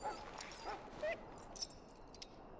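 A dog in the video game Dragon Age Origins whimpers and yelps in several short, high, plaintive cries, faint and close, over a quiet background.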